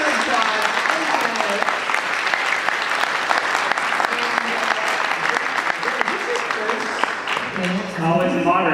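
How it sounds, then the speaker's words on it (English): A Comic-Con panel audience at SDCC 2016 claps loudly and continuously, with a voice beginning to speak over the fading applause near the end. "A huge round of applause."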